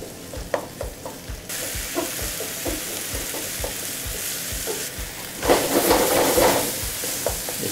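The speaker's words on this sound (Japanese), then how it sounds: "強火で炒めていきます。" Minced meat for natto keema curry stir-fries over high heat, loud continuous sizzling with rhythmic spatula scrapes and taps against the pan, the hiss swelling stronger toward the end.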